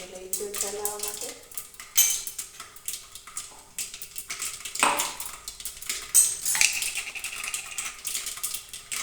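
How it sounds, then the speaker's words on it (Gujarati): Metal ladle clinks and scrapes against a pan while preparing a Gujarati vegetable dish with curry leaves, tomatoes and chillies, a run of sharp, close utensil clatters with brief pauses between them. "આપણે ચમચો લઈશું ચલાવવા માટે."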